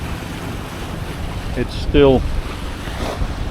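Wind and sea wash steadily around a sailing boat at sea, a constant broadband rush with a brief spoken remark partway through.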